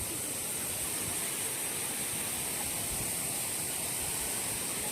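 A mountain river in Abra flows with a constant, soft rushing wash of water, even and unbroken, and no one speaks.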